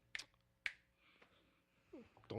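Two crisp, sharp finger snaps ring out close and dry about half a second apart, followed by a softer click and a brief voiced sound near the end in a quiet room.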